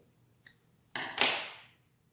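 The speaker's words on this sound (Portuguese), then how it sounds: "E aqui já podemos cortar o fio." Scissors cut through yarn while finishing an amigurumi snowman: a faint click, then two close, crisp snips with a brief rasping tail, near and alone with no talking.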